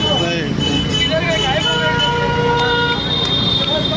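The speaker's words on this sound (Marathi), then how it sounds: "ट्रॅफिक जॅम जाल्लो हांगा." Car horns honk repeatedly in a traffic jam on a Panaji city road. Short toots and longer blasts overlap above a steady roar of engines and roadway noise.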